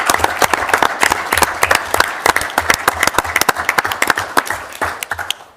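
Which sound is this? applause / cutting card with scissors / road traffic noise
applause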